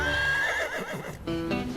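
A horse, a gelding lame in one hoof, gives a loud, close whinny that rises and wavers, then a second shorter neigh follows, with faint hoof clops beneath.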